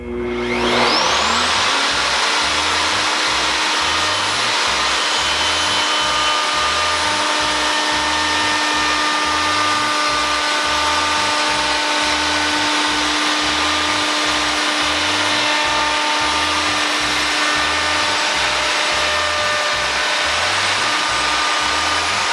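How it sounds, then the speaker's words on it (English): A WEN plunge router fitted with a 3/8 inch roundover bit on a 1/4 inch shank adapter spins up and runs steadily through plywood, a loud high whine that holds for the whole stretch, close up with no voices. "Now the router started up nicely and had a nice smooth glide across the bottom of this plastic base going across the wood"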